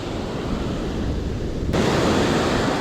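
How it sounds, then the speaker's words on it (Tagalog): Strong wind roars by the sea on the coast at Salalah, Oman, during fishing: a steady broadband rush of gusts and surf blowing alone, loud and close, swelling brighter and harsher partway through. "Lumalakas na yung hangin."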